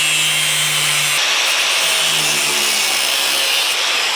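A power cutting tool slices into a metal seam join on a BMW car body, producing a loud, harsh, continuous grinding whine held close throughout.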